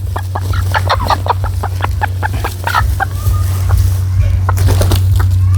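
Several hens clucking close by in a farmyard, with repeated short bursts in an uneven rhythm over a steady low hum and farm background.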